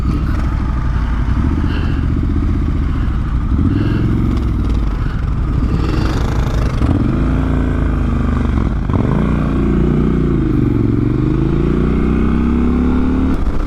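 An adventure motorcycle labours through sand on a dirt road, its engine droning loud and close throughout with rising and falling revs and a constant rumble of rough riding noise.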